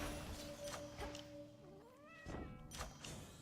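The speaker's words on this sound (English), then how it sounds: "Good cat." A cat meows a few times in the video game Hades II, with drawn-out rising cries over steady game music and thuds.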